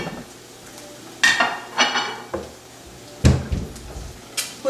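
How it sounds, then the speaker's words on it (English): In a home kitchen with a gas stove, a dish is grabbed and handled for huevos rancheros, making a few loud close clatters and knocks of cookware spaced apart, with softer bumps between. "So I'm gonna grab the dish"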